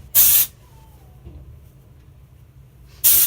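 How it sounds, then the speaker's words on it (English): Two short bursts from an aerosol hair texture spray can, a few seconds apart, with quiet background in between. "this texture spray, I'm gonna spray on my actual hair"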